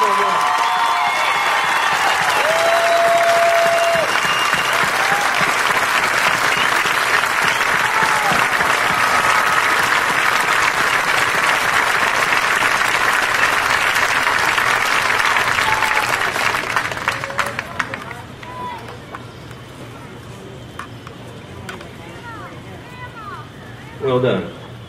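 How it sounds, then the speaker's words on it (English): A crowd at a Pickens High School class of 2016 graduation ceremony gives loud, sustained applause for about seventeen seconds, then it drops away, leaving a quieter hall with scattered sounds. "Let's please give these people a big round of applause."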